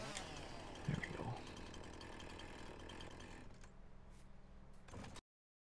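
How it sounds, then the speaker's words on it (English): A chainsaw idles and revs in the Farming Simulator 19 video game, carried while the player walks, a steady droning engine with a brief louder burst early on before cutting out near the end. "Walking with a chainsaw running."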